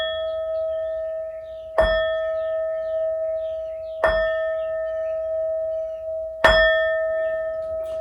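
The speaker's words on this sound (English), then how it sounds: "These next 4 bell sounds are to align us and to bless this reading" Three clear bell strikes ring out alone at even intervals, each a bright metallic ding with a long sustained tone that hangs between hits, opening a tarot reading.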